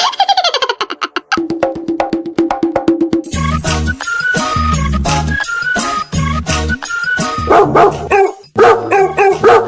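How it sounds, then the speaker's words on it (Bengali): A dog barks outside in loud, rapid bursts, many sharp barks crowding one another in an insistent rhythm that continues throughout. "দেখো বাইরেই মনে হয় কুকুর দাঁড়িয়ে আছে"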